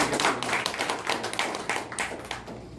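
Audience in a Tamil public-speaking club meeting in Riyadh clapping for a speaker, a steady burst of dense, moderately loud applause throughout with no voices over it.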